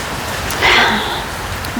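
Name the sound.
heavy rain pouring down during a thunderstorm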